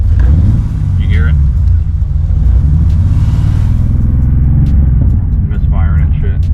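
A BMW M20B25 inline-six idling with a misfire from fouled plugs on two or three cylinders, a loud, uneven low rumble up close, with someone speaking briefly over it.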